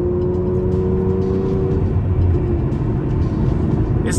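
Aston Martin Vanquish engine shifting gears in sport mode, a close, steady rumbling drone with a pitch change partway through as the gear changes, no talking.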